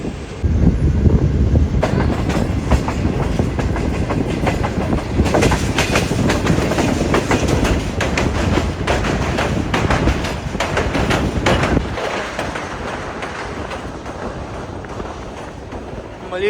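A Pakistan Railways Green Line passenger train runs from Lahore toward Karachi, heard as a loud, steady rumble of wheels and carriages with clattering rail joints, easing off near the end.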